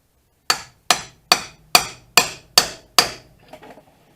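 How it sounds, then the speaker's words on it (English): Seal driver hammered onto a rear axle seal of a 1999 Toyota 4Runner 4x4: seven sharp, evenly spaced metallic strikes, close and loud, followed by a few softer rattling knocks as the seal seats. "we're going to put that driver in there, and we'll try to drive it in as level as we can until we hear it bottom out"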